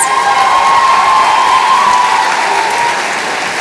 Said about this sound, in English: Please give another round of applause for the College of Biological Sciences.